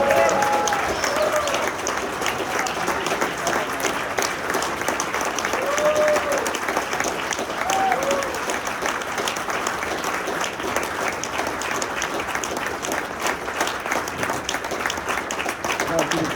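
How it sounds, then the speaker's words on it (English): Sustained applause from an audience at a Good Morning Corona community breakfast honouring the military, steady dense clapping with faint crowd murmur and a few brief voices throughout. "Please give Bobby a round of applause for all of his hard work and dedication."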